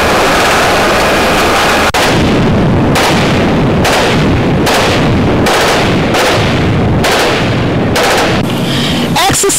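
Naval warship guns firing during a multinational maritime security exercise at sea: a loud, dense series of heavy booming shots at roughly one-second intervals, continuous and close, with no talk.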